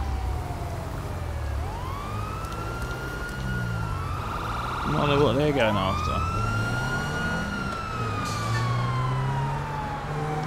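Police siren in the video game GTA V, a loud wailing siren sweeping up and down and a second siren joining midway over traffic and engine rumble, with someone talking under it.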